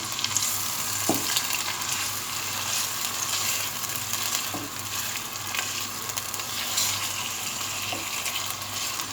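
Half a kilo of beef frying in a pot for Delhi-style badami korma, cooked with ginger-garlic paste, makes a dense, continuous close sizzle with occasional soft stirring knocks and no voices.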